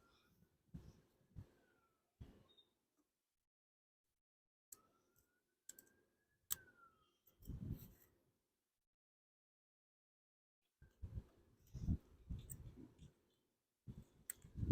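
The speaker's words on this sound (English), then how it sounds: "use a flathead screwdriver to separate the base from the headlight bulb" Flathead screwdriver prying the base off an H7 low-beam headlight bulb on a 2002 Volkswagen Passat B5: sparse, close plastic clicks and scrapes in short bursts separated by quiet gaps, with a denser cluster of clicks near the end.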